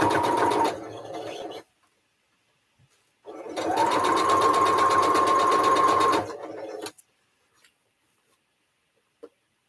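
Sewing machine stitching a small woven star craft project in two runs, a short burst then a longer steady whirring stretch, close and fairly loud with a quiet pause between and silence after.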